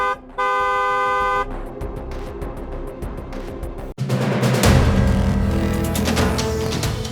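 A vehicle horn gives one loud, sustained honk of about a second. Busy traffic noise follows it, with a louder rumble of passing vehicles in the second half.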